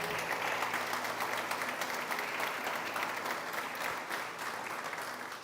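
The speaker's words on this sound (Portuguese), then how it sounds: "Pode aplaudir a palavra do Senhor." A church congregation applauding during a sermon, a continuous dense wash of many hands clapping at steady loudness throughout, with no voices standing out.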